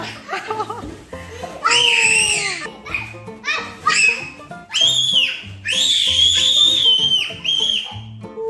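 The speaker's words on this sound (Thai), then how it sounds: "เสียงกรี๊ดแบบแสบแก้วหูมาก" Children shriek and squeal excitedly in repeated high-pitched bursts while playing with balloons, mixed with laughter and chatter, loud and close.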